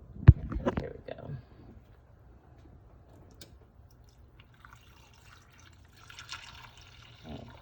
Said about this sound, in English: I'll pour it on the side.